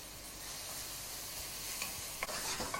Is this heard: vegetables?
yes